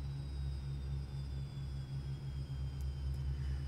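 An aircraft engine in the X-Plane 10 flight simulator winds down after its fuel is cut, a low steady droning hum with a faint high whine, fairly quiet and continuous without speech.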